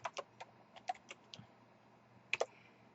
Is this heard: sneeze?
no